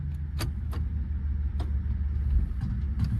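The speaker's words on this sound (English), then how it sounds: "We're going to just take it around the block and see what happens." A 1992 Cadillac Brougham hearse with transmission trouble drives around the block, giving a steady low engine rumble with a few sharp clicks and rattles scattered over it.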